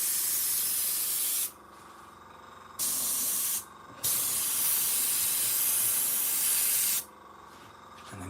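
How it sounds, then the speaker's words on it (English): Several bursts of airbrush paint spray hiss over model railway scenery. There are three or four separate blasts, each lasting one to three seconds with short gaps between them. The blasts are close and loud, with no talking. "with a blast of the airbrush, I can just mute everything down a little bit"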